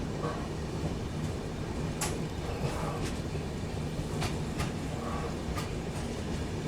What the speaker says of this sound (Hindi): ट्रेन बिल्कुल राइट टाइम पहुँच रही है भाई